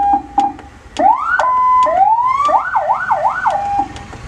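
Ambulance siren sounding loud and alone, cycling through rising sweeps, a held tone and a rapid wailing yelp, with short horn-like blips at the start and end.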